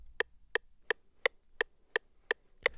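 Metronome clicking at 171 BPM, eight sharp, evenly spaced ticks in under three seconds, crisp and isolated over a faint low hum.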